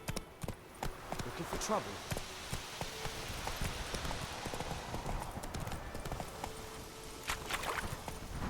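Roach the horse trotting in The Witcher 3 video game, a steady clip-clop of hooves moving at a brisk pace beneath a man's brief spoken remark, with soft ambient game sound underneath.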